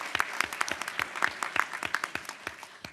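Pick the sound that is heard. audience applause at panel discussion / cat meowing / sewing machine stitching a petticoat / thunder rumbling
audience applause at panel discussion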